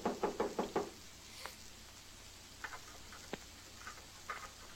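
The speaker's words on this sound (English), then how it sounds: "He's trying to unlock the door." A door being worked at from outside in a dark office: a quick run of five sharp knock-like raps at the start, then scattered faint clicks and taps of handle or lock fiddling, fairly close, with no talking.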